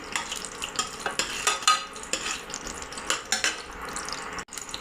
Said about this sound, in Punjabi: ਤੇਲ ਆਪਣਾ ਗਰਮ ਹੋ ਚੁੱਕਿਆ ਆਪਾਂ ਇਹਦੇ ਵਿੱਚ ਪਾਵਾਂਗੇ 4 ਤੋਂ 5 ਬਦਾਮ